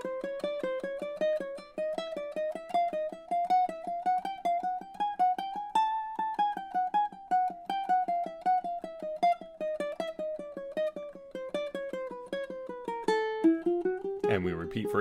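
Advanced caterpillar warm-up exercise played fingerstyle on a ukulele: a steady, close stream of plucked single notes climbing and descending in a repeating pattern, clear and alone, with a brief scuffle of handling at the end.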